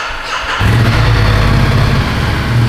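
A Ducati V2 Enduro 1260 motorcycle's V2 engine starts up and runs close by, a steady, loud, rough low rumble with no talk over it.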